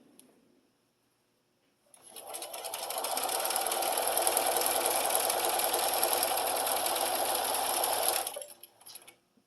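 A sewing machine quilts the background of a Bats & Boos table runner, starting up and running in one steady, close, whirring burst for about six seconds before stopping, with no voices.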